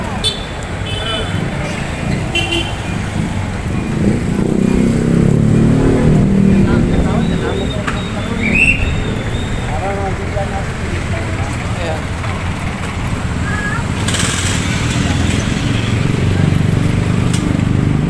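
Street traffic on a town road in Santa Rosa, Laguna, with a steady roar of passing cars and motorcycles nearby, engines rising and fading, under a person talking.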